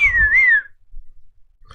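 A man whistles a short, bright, wavering phrase up close, lasting under a second, followed by near silence with faint small noises.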